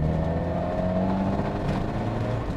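A 1977 Ford Cortina Mk3 with a small 1.6-litre crossflow four-cylinder revs up, a steady, fairly loud engine drone that rises and holds while the car is driven, with no voices.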